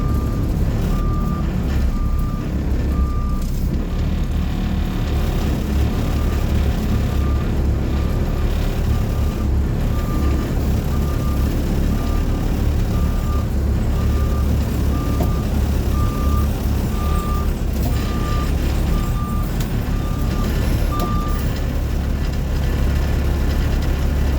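Bus 23 drives through snow, a deep heavy engine droning steadily and close while an evenly spaced beeping tone pulses above it for most of the stretch.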